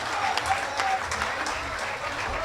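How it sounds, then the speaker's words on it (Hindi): Audience clapping at a Hindi poetry recital, a kavi sammelan and award ceremony, steady and dense for a couple of seconds, with faint voices mixed in. "नई पलट के लिए एक बार तालियां बजा दीजिए।"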